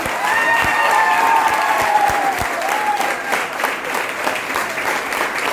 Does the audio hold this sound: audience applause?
yes